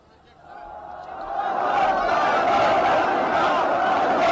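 A large Yemeni Houthi crowd chants en masse, a dense roar swelling over the first second and a half and then holding steady and loud to the end.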